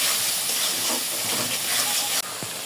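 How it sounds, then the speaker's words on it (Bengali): Spice paste with chili and turmeric powder sizzles in a pan, a dense, steady hiss close up that continues throughout with a slight drop near the end. "আর কোনো মশলা দেব না, মশলাটা একটু ভালো করে কষায় নিতে হবে।"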